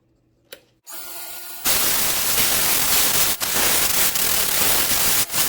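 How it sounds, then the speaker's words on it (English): Harsh, steady abrasive hiss of a power sander on a purpleheart and cedar hollow form, starting after a couple of quiet clicks and running loud and close with brief dips. "now we're going to do some sanding"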